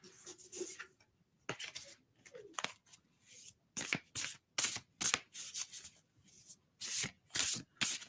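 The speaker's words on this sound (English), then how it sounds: "I'll have to keep shuffling the cards or I'll be out-tuned." Tarot cards are shuffled close to the microphone in a run of quick, crisp riffling bursts separated by short pauses, with soft hand rubbing between them.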